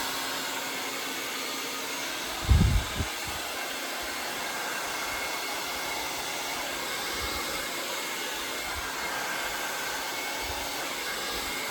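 A hair dryer blows steadily at close range while hair is blow-dried for volume, a continuous broadband whoosh with a brief low bump of handling partway through.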